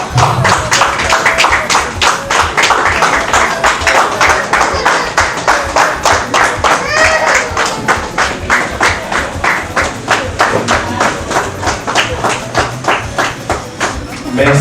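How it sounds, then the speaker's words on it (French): Wedding guests clap steadily through a bride's entrance at a formal wedding ceremony, a dense, sustained round of applause with rhythmic clapping, loud and close, while a voice carries on over it. "Veuillez applaudir son entrée s'il vous plaît."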